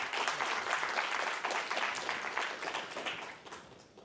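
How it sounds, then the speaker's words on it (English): An audience applauds panelists at a conference session, producing dense, sustained clapping that holds steady and then tapers off near the end, moderately distant and without speech. "Let's give a round of applause to the panelists."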